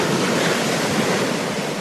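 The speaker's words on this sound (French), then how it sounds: "Le bruit des vagues qui déferlent." Waves breaking on a shore at a fishing area, a steady broadband roar of surf rolling in continuously, loud and close, with a cold wind blowing and no voices.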